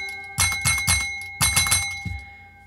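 A cheap dollar-store emoji service bell with a plunger that tends to stick is struck about seven times in two quick bursts, each a bright metallic ding ringing close and clear, with the last strike trailing off.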